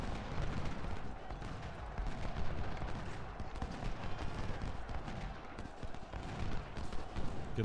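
Cannon fire in a Civil War battle in the Ultimate General: Civil War video game, a steady rumble of distant booms and crackling volleys layered over dense battle noise, with talk heard faintly underneath.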